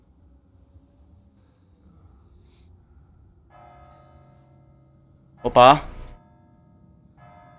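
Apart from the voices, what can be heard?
church bell tolling in a medieval video game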